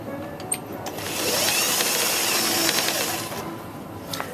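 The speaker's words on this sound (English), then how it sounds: "So if I stitch this, I'm going to just do it from this end so you can see." A sewing machine stitches a pillowcase seam, a short whirring run that swells in the middle and fades out, with a few light clicks before and after, close and without talk.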